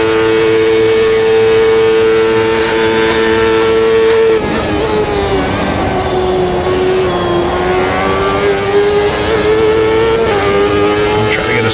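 Race car engine in the video game Automobilista 2, driving Patrick Carpentier's car while chasing a slipstream: a loud, continuous high-pitched whine held at speed, dropping in pitch partway through as it shifts or lifts, then climbing steadily again.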